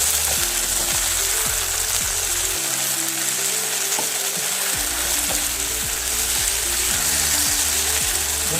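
Spicy potatoes frying in a pan while being mixed, a loud continuous sizzle with repeated scraping strokes of the spoon, close up and without speech.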